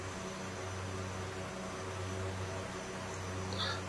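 Turbine aircraft engines spool up as more throttle is added with flaps set, producing a faint, steady drone with low tonal hum and broadband hiss that stays even throughout, no speech.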